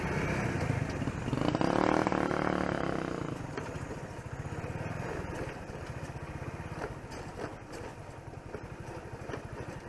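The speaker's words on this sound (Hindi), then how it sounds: "तो देखें कि ये बाइक किस तरह रोज़ लेके जाते हैं इस रोड पे।" Motorcycles ridden on a rough, dangerous mountain road near Muzaffarabad, engines loud and close in the first seconds, then fading into a steadier, quieter drone with small bumps and rattles.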